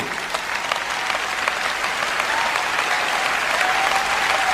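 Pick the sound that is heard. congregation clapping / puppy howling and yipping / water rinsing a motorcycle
congregation clapping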